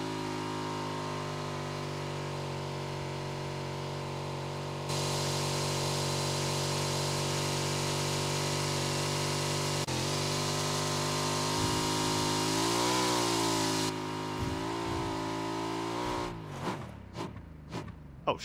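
A motorcycle engine in the PlayerUnknown's Battlegrounds video game drones steadily at a constant pitch, rising in stages, then wavers and breaks into clattering thumps near the end, with no talk over it.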